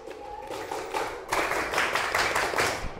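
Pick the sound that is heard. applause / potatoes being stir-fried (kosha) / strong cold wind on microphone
applause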